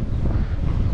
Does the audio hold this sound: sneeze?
no